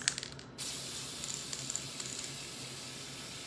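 A steady aerosol pearl shimmer spray hisses continuously onto cupcake icing for several seconds after a brief pause, close and even, with no voices.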